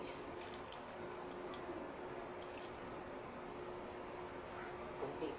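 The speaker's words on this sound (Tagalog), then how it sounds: "Lagyan natin ng tubig." Water pours into a cooking pot for paksiw na tilapia as a faint, steady splashing stream with light drips, close by and without talk.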